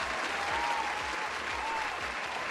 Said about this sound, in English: Let's give a round of applause to Raven.